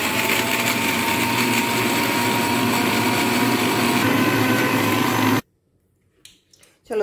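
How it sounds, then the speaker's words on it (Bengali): Electric kitchen grinder whirring loudly while grinding ingredients for a soya paneer dish, a steady close motor drone that cuts off abruptly near the end, followed by a brief quiet moment and faint handling sounds. "চলো গ্রাইন্ড করে।"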